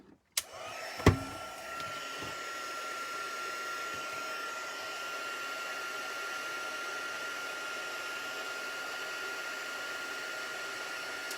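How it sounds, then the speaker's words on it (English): Heat tool blowing hot air onto silver embossing powder, starting with a click and a brief clatter, then settling into a steady whirring fan hiss with a faint tonal whine that holds without pause. "And going to heat with our heat tool."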